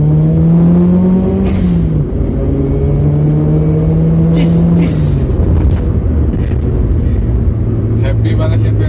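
A turbocharged Daihatsu Xenia with a small turbo accelerates under throttle through several gear pulls, the engine rising and dropping at each shift with turbo whoosh, loud and close from inside the cabin as people talk.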